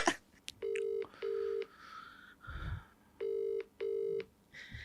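A telephone on loudspeaker being dialed, giving four clear beeping key tones in two evenly spaced pairs over quiet room noise.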